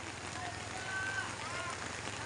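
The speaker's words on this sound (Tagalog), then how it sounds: "Bumuhos na ang ulan." Heavy rain pours down steadily in a dense, even hiss, with a low hum beneath and a faint voice in the background.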